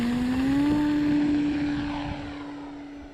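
An Eflite Carbon Z T28 Trojan RC airplane's electric motor and propeller whine steadily at takeoff, a strong sustained tone rising slightly in pitch, then fading as the plane pulls away.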